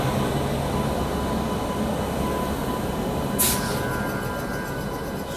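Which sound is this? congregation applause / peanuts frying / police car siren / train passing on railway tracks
train passing on railway tracks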